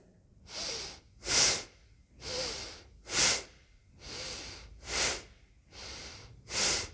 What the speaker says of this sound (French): On va forcer en fait un peu cette respiration.